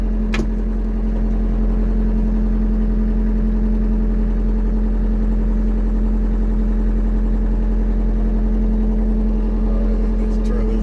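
A tractor engine idles steadily and loudly up close, a constant low drone with a strong hum that holds unchanged throughout, with a brief click near the start.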